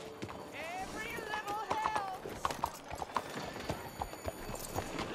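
Horse hooves clip-clop at a run in Red Dead Redemption 2, the quick rhythmic beats fairly close and mixed with game speech and a rising whistle-like tone.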